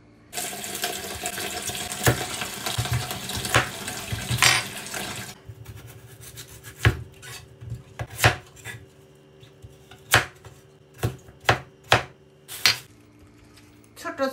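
Knife chopping radish and green eggplant into small pieces on a board, with faucet water running at first, then a series of sharp, separate cuts at an uneven pace.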